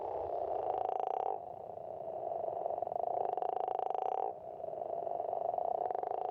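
Male western leopard toads giving mating calls at a nearby pond, a loud, continuous snoring croak in long pulsing bouts, with overlapping callers swelling and dropping in turn.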